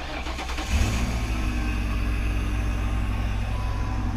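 A Ford Crown Victoria with a rear catalytic converter delete cranks briefly, fires up with a deep burst, then settles into a steady, rumbling idle, loud and close with no talk.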